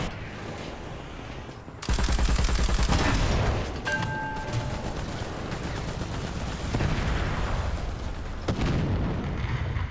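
Sudden loud burst of gunfire strikes a player's plane in the War Thunder combat flight game, a dense rattle of hits and booms that then settles into continuous engine and battle noise.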